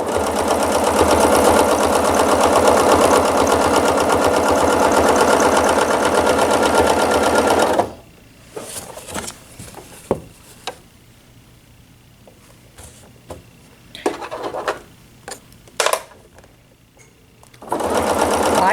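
A sewing machine runs steadily for about eight seconds while stitching a table runner with a ruler foot, then stops, leaving faint handling clicks and a brief burst of stitching near the end.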